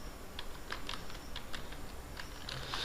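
Fingers type a search on a computer keyboard in quick, irregular clusters of soft, close clicks with short pauses between bursts over a faint background hiss.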